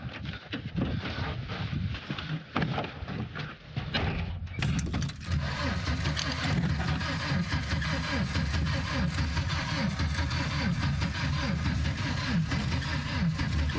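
A video game truck engine starts up with a burst of noise, then keeps running at a steady, dense idle, loud and close throughout.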